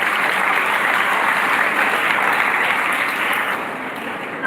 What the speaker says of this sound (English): Can we have a huge round of applause for Argentina?